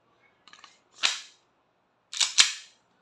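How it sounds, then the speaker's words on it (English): A WE Tech Hi Capa 2011 airsoft pistol fires on full auto close by: a few light clicks, then a sharp pop, and after a pause two snappy shots in quick succession, with silence between. "Firing, full auto."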